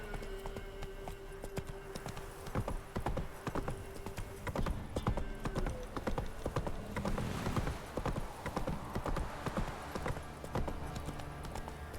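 A horse's hooves gallop in The Witcher 3, a fast continuous clip-clop close by, with a whinny and ambient game sound mixed underneath.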